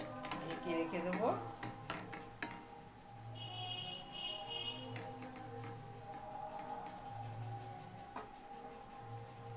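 Metal clinks and clatters as a lid goes onto a pot of gulab jamun soaking in syrup, with scattered sharp taps, a short ringing scrape and quiet kitchen background, no talk.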